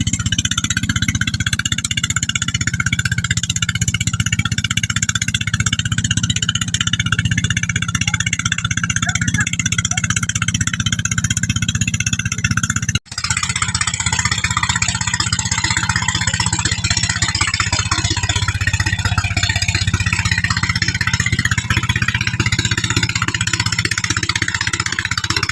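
A wooden boat's engine runs continuously in a loud, steady mid-pitched drone, with one brief dropout halfway through before the chugging resumes.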